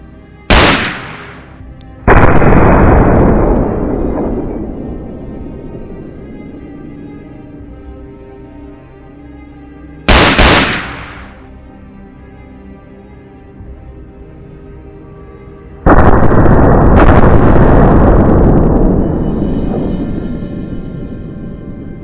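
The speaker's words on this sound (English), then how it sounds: "Shots were fired, and the targets were swiftly taken down." Loud gunshots during a wild boar hunt: a sharp crack near the start, a heavier boom at about two seconds, another crack around ten seconds and a big blast near sixteen, each followed by long rolling echoes, with no voices.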